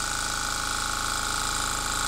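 A Wells stationary cast-frame steam engine runs steadily, making a loud, continuous mechanical hum with a fast, even rhythmic beat and a constant high whine that holds without pause from start to end.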